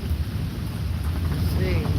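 Steady heavy rain with a low rumble of thunder during a major storm, a continuous dense wash with no talking.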